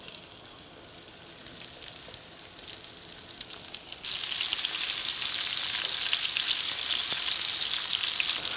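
Potatoes hiss in brown sugar bacon grease, a steady close sizzle that jumps abruptly to a louder, denser roar partway through as they hit the hot fat, with no talk.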